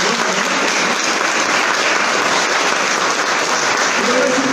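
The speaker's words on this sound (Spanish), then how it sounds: "Vamos a darnos un aplauso a todos." A church congregation bursts into steady, loud applause, dense continuous clapping from many hands that fills the room throughout.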